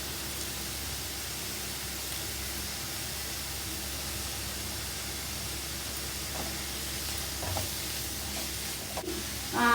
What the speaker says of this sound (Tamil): கருவேப்பிலை கொஞ்சம் போட்டுக்கோ ஃப்ரெண்ட்ஸ்.